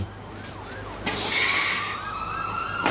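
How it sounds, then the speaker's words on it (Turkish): An ambulance siren wails at a moderate distance, its rising and falling tones sweeping steadily over a low background hum, growing louder and taking on a second, harsher tone partway through, with no talking. "Ambulans sirenleri başladı."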